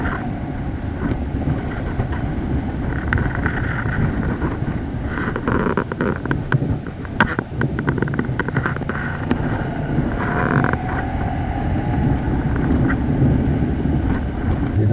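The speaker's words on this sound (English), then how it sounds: "I don't know if you can hear it, but there's quite a wind blowing" Strong wind roars continuously into a microphone during a trip, a dense, loud rumble with gusty buffeting and a low vehicle-like drone beneath, with no voices.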